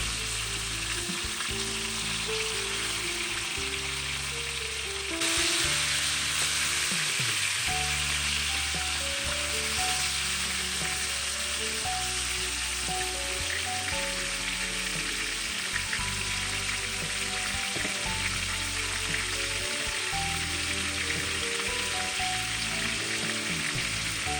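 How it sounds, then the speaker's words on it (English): Meat browns in a hot pan, a dense, steady sizzle and crackle running the whole time with occasional stirring scrapes and a brief surge in intensity partway through. "This process can take about a couple of minutes, making sure that the meat is browned on all sides"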